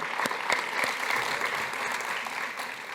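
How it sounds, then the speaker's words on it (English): Loud, sustained applause from an audience, dense clapping holding steady throughout with no voices standing out. "Can we give her another round of applause?"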